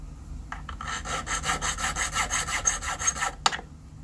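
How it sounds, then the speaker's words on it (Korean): A file rasps back and forth across the cut face of a handmade gold bar, smoothing a bulge raised by hammering, in steady close strokes with no talk. "이쪽 잘린 단면을 왜 갈아주느냐"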